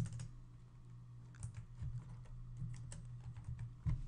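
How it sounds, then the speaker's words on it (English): Steady typing on a computer keyboard while entering coordinates in engineering software, a continuous run of quick, close key clicks at moderate volume, with no talking. "So I'll type in 0 for the X"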